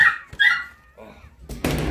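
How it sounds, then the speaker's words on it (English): Newborn puppies and their mother dog make brief whimpering yips up close, followed by a burst of louder broadband noise near the end. "The puppies all look fat and happy, Lilly."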